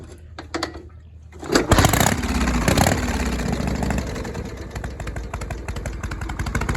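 A 1972 Harley-Davidson FX Shovelhead motorcycle engine starting up and idling close by with a loud, lumpy, uneven thump, the rhythm settling into a steady loping beat.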